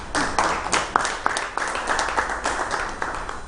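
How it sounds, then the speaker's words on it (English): An audience at a cancer and palliative care conference in Uganda claps in a steady patter of applause, moderately loud, with no talk over it. "So we have to clap again for that."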